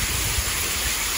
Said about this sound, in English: Now that rain is coming down. Our sidewalk has just started to flood.